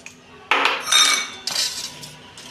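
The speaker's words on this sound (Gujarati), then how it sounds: "1 ચમચી મીઠું નાખશું।" A metal spoon clinks against a bowl while salt goes into a batter of ground chana dal, toor dal and rice for khatta dhokla, several sharp, close taps in irregular bursts with no talk.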